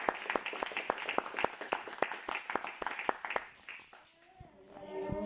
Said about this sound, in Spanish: ¿Cuántos le dan una ofrenda de palmas al Señor?